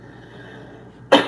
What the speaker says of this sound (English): She's coughing in Morse code